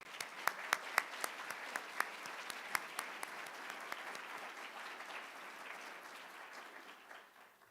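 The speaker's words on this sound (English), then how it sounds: "Students, let's give all the faculty who have supported you here at USU a big round of applause" An audience at a university honors medallion ceremony breaks into sustained applause, many hands clapping steadily with a few sharper claps standing out early before the sound gradually thins toward the end.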